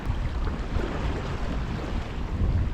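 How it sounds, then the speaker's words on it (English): Strong wind roars steadily across the mic while riding an electric raft over a lake, a dense, buffeting rush that masks any water sound, with no voices. "It's a little bit windy."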